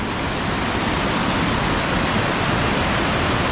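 Jogini Falls waterfall near Manali roars as a loud, steady broadband rush of falling water, continuous and close throughout with no voices.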